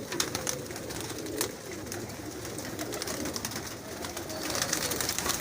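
Pigeons coo steadily and close by throughout, a continuous layered murmur of several birds from a prized pair and flock kept by a pigeon fancier, with no talk.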